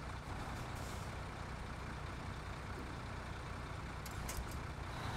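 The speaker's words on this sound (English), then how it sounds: "Oh wow, huge truck." A huge truck's engine rumbles steadily in the Snowrunner video game, a low continuous drone with a faint hiss like an air brake near the end, no speech.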